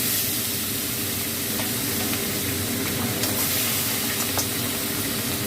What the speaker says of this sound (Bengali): এরকম করে সব মাছগুলো আমি ভেজে নেব।